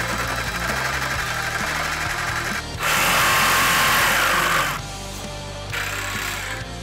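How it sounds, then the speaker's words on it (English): A jigsaw cuts a patio slat-wall board scribed to the shape of stone, giving two loud, sustained buzzing cutting runs separated by a short, quieter pause. "Then we'll take that over to the jigsaw and make the cut."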